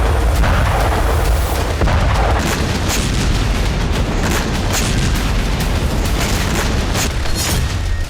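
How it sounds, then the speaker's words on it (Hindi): Loud, continuous roaring rumble with repeated heavy booms and crackling blasts as a Russian kamikaze drone strike burns a Ukrainian grain warehouse, dense and close, with no voices. "रूस के आत्मघाती ड्रोन के धमाके से यूक्रेन का एक अनाज गोदाम भस्म हो गया।"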